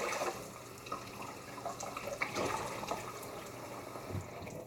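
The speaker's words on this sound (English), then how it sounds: "So I'm going to warm up my cloths again in hot water." Cloths soaked in hot water are wrung out, giving a continuous close splashing and trickling of water with a few drips, moderately loud and without speech.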